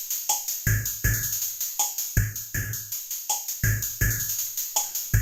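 A drum kit layered with pink noise: punchy kick and snare hits in a steady groove, each strike followed by a hissy noise swell that pumps with the beat, heard alone and up close.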